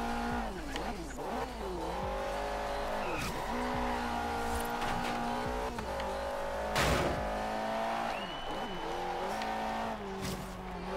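Ferrari race car in Forza Horizon 3 revving and shifting through a race, engine pitch rising and falling close up, with tire squeals and a sharp crash as it strikes an obstacle midway.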